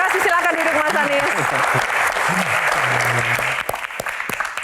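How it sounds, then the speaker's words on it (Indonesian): A studio audience at a political question-and-answer event breaks into loud, sustained applause with some cheering, and voices speak over the clapping before it thins out near the end. "Tepuk tangan, terima kasih."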